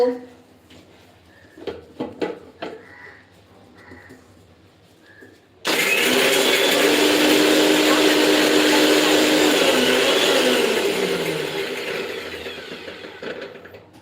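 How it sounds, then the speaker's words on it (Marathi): A mixer grinder whirs loudly as it grinds red chili, green chili and garlic, starting abruptly after a few soft knocks and running steadily before slowly winding down. "मी लाल मिरची हिरवी मिरची आणि लसण वाटून झालेलं आहे"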